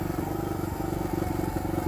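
A 2020 Suzuki DR200 motorcycle engine runs steadily nearby, a loud continuous low thrum with an even rapid pulse and no change in pace throughout.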